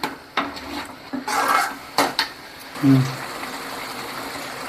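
A few metallic clinks and taps of cookware, ending with a lid set down on a pot of egg gravy, followed by quiet room noise.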